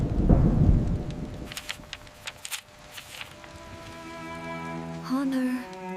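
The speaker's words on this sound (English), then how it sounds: "Thunder." A low rumble of thunder rolls in at the start of a rainy day at home, loud and heavy for about a second before fading, and soft tonal music plays beneath and after it.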